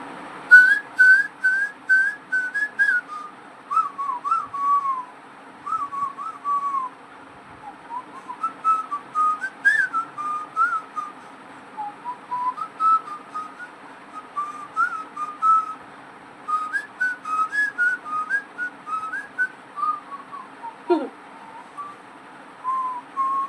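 A man whistling a song solo, a clear melodic tune of wavering, sliding notes in phrases with short pauses, close and fairly loud, continuing for over twenty seconds with no talk.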